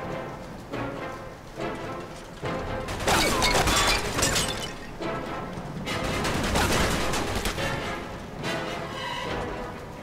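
Gunfire in the Mafia 2 video game: dense, crackling bursts of shots and clattering impacts over a constant rumbling background, loud and continuous for several seconds, with brief gaps between volleys.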